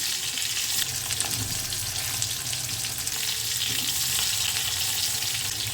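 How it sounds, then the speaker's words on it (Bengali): Koftas frying in hot oil in a kadai, turned over now and then, give a steady close hiss and crackle with faint scraping of the spoon and no talk. "তেল তো আমাদের গরমই আছে শুধু একটু এপিট ওপিট করে নেব"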